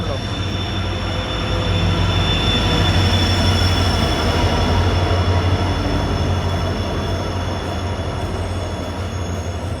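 A train rolls into a station with a loud, continuous rumble of wheels on rails, steady clatter and high metallic squealing as it slows.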